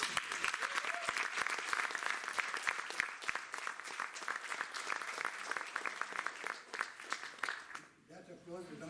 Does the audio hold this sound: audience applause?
yes